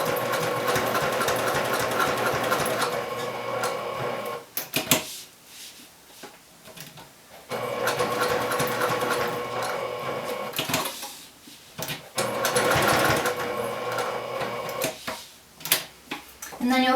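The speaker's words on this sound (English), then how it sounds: "And then you'll back stitch and sew down the side." A sewing machine stitches the handle of a Tiffany bag, running in two long loud bursts of steady mechanical whirring separated by quieter pauses with small handling clicks.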